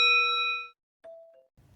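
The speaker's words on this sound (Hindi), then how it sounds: "साथ ही घंटी को जरूर दबाएं" A notification bell sound effect rings out: a bright ding-dong chime that sustains and fades, followed by a softer single ding, with no talk.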